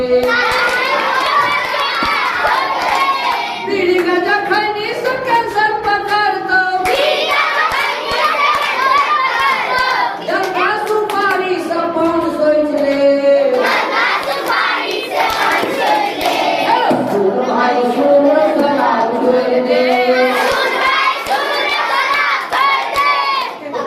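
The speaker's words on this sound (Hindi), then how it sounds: "हम जेना ताली बजेबै तेना अहाँ सब बजाब" Children and a crowd at a gurukul school gathering in Madhubani, Bihar clap along as a song against drinking and tobacco is sung. The rhythmic hand-claps sit under loud group singing and shouted lines throughout.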